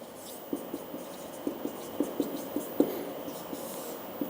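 Chalk or marker taps and scratches on a board during a maths lecture, a quick irregular series of short strokes, close but faint against a quiet room.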